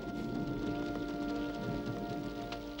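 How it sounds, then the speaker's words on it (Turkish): Raindrops falling in a Smurfs cartoon, a soft, faint patter of rain on a surface with a low hum beneath. "Birkaç damla yağmur, ha?"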